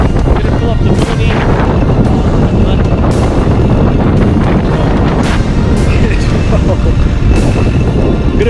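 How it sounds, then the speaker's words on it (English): Strong wind buffets the microphone at a small airfield beside a Mooney aircraft, making a loud, continuous rumbling roar with gusty swells and no clear pauses. "the wind is really everything over here"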